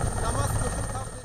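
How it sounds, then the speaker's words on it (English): A helicopter descends near a village, and its rotor drone fills the whole clip as a steady, loud, broadband rumble with no break. "As the helicopter descends, the villagers rush out."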